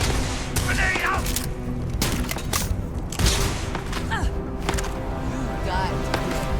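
Gunfire and a grenade blast in Starfield: Shattered Space, with several sharp shots scattered across the stretch and a heavy thump near the middle, while voices talk over the combat.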